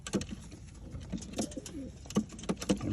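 Racing pigeons at a loft give soft, repeated coos and short calls in an irregular rhythm, fairly quiet and close, with no talk over them.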